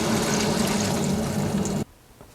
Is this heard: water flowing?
yes